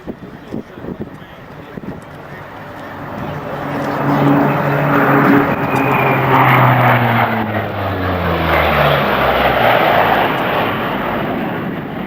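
A P-51 propeller plane roars past nearby at an air show at Andrews Air Force Base, its engine drone swelling and then shifting in pitch as it passes, with some wind noise on the microphone.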